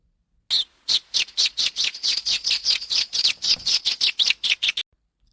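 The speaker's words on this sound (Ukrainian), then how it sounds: "Вона голосно скрекоче. Ось послухайте." A magpie's loud, harsh chattering call, a rapid run of about twenty raspy clacks in steady rhythm, close and alone.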